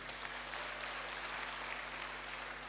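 A church congregation claps during a sermon, a continuous, even wash of applause with a low steady hum underneath, sustained throughout the short stretch.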